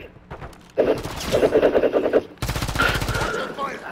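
Automatic gunfire in the Warzone 3 video game, loud rapid bursts of machine-gun fire in two long strings with a short gap between them, with some talk in the background.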